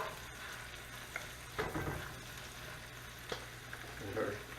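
Peeled, sliced apples hit melted butter in a cast iron pan, giving a quiet steady sizzle broken by a few soft stirring scrapes and clinks.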